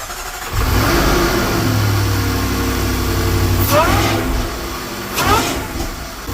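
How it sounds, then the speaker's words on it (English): A loud supercharged car engine with an airbox mod runs steadily, a low throaty rumble with whine riding on top and a couple of brief revs, while a voice speaks over it. "it's a loud car already, and now the whine is gonna make it even more louder"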